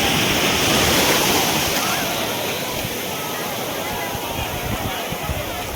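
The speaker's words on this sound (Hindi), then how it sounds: "यही सब ढेउ गुड़ाक देख" Sea waves at Digha beach roll and crash in a loud, continuous wash of surf close by, with people talking faintly underneath.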